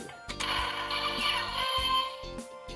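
Electronic attack sound effect from a DX EnyaRideon Sentai transformation toy (Zenkaiger gear), a bright synthesized tone with jingling, chiming layers over a low pulsing beat, steady and loud for nearly three seconds.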